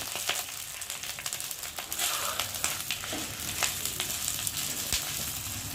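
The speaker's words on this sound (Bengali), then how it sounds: "ভালো করে ভেজে নিয়ে একটু আদাটা জিরেটা ভাজা ভাজা হয়ে গেছে" Ginger and cumin, with a little coconut, fry in a pan for chana dal, giving a steady close sizzle with crackles and light stirring scrapes throughout, and no talk.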